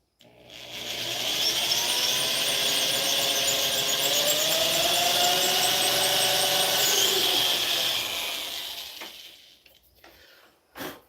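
Power drill boring into wood with a long drill bit while shaping a wooden pipe, a steady close whirring grind lasting several seconds before winding down, followed by a few light knocks.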